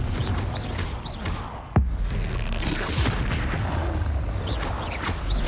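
The Confringo explosion spell in Hogwarts Legacy fires once with a sudden sharp boom, set among steady game ambience and faint whooshing effects.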